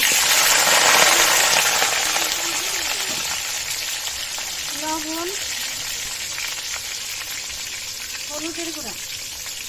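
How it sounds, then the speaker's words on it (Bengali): Potatoes frying in oil in a kadai give a steady, loud sizzle that slowly fades a little, while a voice talks over it in short phrases. "আলুগুলো আমি আগে ভেজে নেব। কড়াইতে দিয়ে দেবো আলু"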